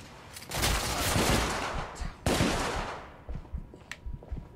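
Rapid gunfire erupts in the video game The Order: 1886, loud and sustained, with two dense bursts followed by scattered shots that fade out.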